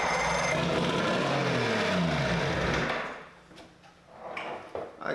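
A 1976 Evinrude 70 hp outboard motor runs on choke, a loud, buzzing, uneven drone that rises in pitch, then cuts out after about three seconds, leaving faint clicks and handling noises.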